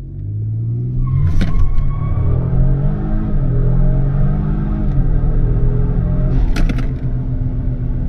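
A 2023 Kia Stinger GT2 makes a launch-control start: a loud, close engine roar that climbs through the revs, with sharp breaks at the gear shifts. The rumble stays heavy from start to end.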